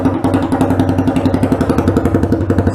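A motorcycle engine idles loud and close through a bare exhaust pipe with the tip removed, a rapid, even thumping pulse that runs without a break and with no talk over it.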